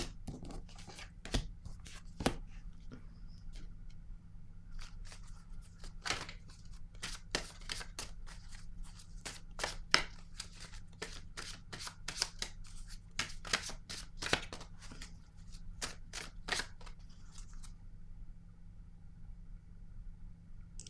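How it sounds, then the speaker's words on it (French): Tarot cards flipped over and shuffled on a table, a steady run of crisp slaps and riffling snaps spaced through a quiet room, close and moderately loud, with no talking. "je vais retourner ces cartes-là"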